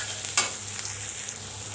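Chopped ash gourd sizzles softly in a hot pan, a faint steady frying hiss with a brief louder crackle and a few light stirring clinks, no talking.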